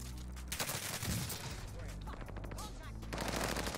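GRAU 5.56 assault rifle fire in Call of Duty: Warzone, dense bursts of rapid automatic shots running nearly the whole time, loud and close, with a voice speaking over the gunfire.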